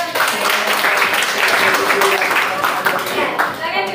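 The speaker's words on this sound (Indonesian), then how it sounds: "Oke, tepuk tangan dulu." A class of middle-school students clapping hands together during an Indonesian lesson, a dense, steady burst of many hands lasting several seconds, fairly loud with some voices mixed in.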